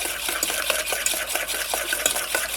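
A spoon stirs egg and sugar batter in a bowl, a rapid scraping and clinking rhythm of many quick strokes, close and fairly loud with no voices.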